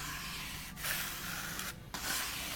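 A squeegee presses down a paint mask with a steady, close rubbing hiss broken by two short pauses, fairly quiet, with no talking.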